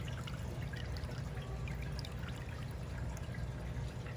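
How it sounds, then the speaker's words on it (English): Water trickles steadily into a home aquarium being filled, a constant soft splashing stream held at an even, faint level throughout with no voices. "Fast little trickle."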